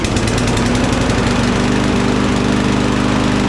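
A petrol lawn mower engine runs steadily and loudly throughout after a repair: a new air filter, the engine cover refitted and fresh fuel. The problem had been an oil-filled tank that kept it from starting or running smoothly.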